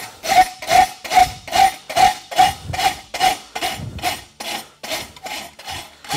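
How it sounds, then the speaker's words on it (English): Steady rasp filing on a pony's concave caulk and wedge horseshoe, about fourteen even back-and-forth rasping strokes close up, loud and rhythmic, with no talk. "I take the rasp and I create new lines."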